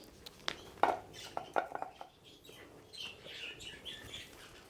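Small scavenging birds near a pet rabbit named Thumper give scattered, fairly faint chirps and tweets alongside a few light clinking knocks, with no talking.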